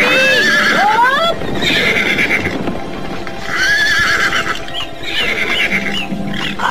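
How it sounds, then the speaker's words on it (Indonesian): Horses neigh and whinny loudly and repeatedly over a rumble of hoofbeats and movement, a band of mounted robbers approaching up close with several drawn-out calls rising and falling. "Aku yakin itu pasti suara langkah-langkah kaki kuda dari kawanan perampok."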